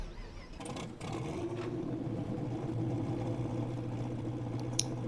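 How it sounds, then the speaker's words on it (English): In the video game SnowRunner, a Chevy truck engine turns over and catches, then holds a deep, throaty idle that swells slightly, heard up close without voices. "Very nice throaty engine sound."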